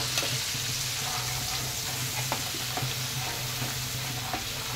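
Turmeric, cumin and chili paste sizzle steadily in hot oil while being stirred for a pabda fish curry, with a continuous frying hiss and occasional soft scrapes of the spatula.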